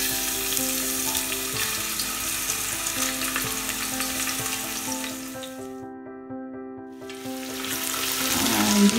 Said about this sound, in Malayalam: അതൊന്ന് ചൂടായി വരുമ്പോൾ നമുക്കതിലേക്ക് ചതച്ച് വെച്ച ഇഞ്ചിയും വെളുത്തുള്ളിയും കൂട്ടി